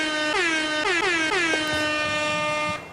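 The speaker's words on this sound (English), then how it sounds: "that was just an air horn" An air horn blares in several quick rising blasts and then one long sustained note that cuts off, loud and close, marking the start of the men's singles final at the Australian Deaf Bowls Championships.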